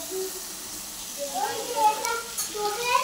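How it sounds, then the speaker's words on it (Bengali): Sliced onions sizzle and crackle in hot oil in a pan while being fried brown for a rohu fish curry, the frying hiss running softly beneath a person talking nearby. "লাল লাল করে ভাজা হচ্ছে পেঁয়াজগুলো"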